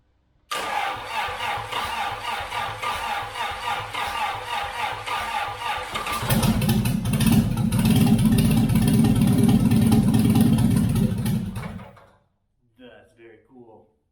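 An Austin Healey engine, long unused, cranks with a rhythmic starter churn for several seconds, then catches and settles into a loud, rough idle before cutting off, followed by a few faint clicks.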